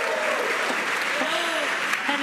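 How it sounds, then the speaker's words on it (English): An excited crowd at SpaceX headquarters in Hawthorne cheers and applauds loudly and steadily during a crewed launch's stage separation, with voices overlapping throughout. "And an extremely excited crowd here in Hawthorne."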